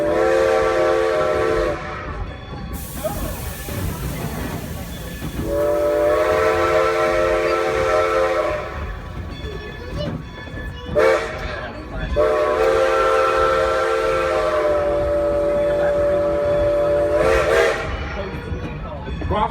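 A Strasburg Railroad passenger train runs through Lancaster County Amish country, sounding three long, loud whistle blasts over the continuous rumble and clatter of the moving cars.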